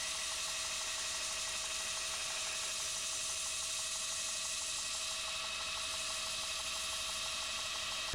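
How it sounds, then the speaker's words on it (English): Belt grinder running steadily while a knife bevel is rough ground against the belt, set up with a 3D-printed grinding jig, a continuous loud whirring grind with a bright high-pitched abrasive hiss throughout, no talking. "So I'm going to set this up here and then start grinding"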